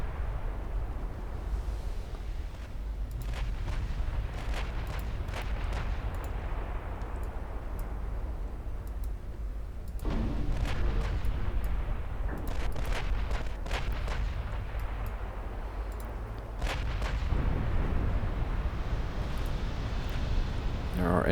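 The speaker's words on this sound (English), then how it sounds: "There are enemy ships exploding violently inside the enemy formation." Naval battle explosions and heavy gunfire from enemy warships in Ultimate Admiral Dreadnoughts, a dense continuous rumble of booms and blasts with sharp transients, swelling louder in the second half, with faint talk underneath.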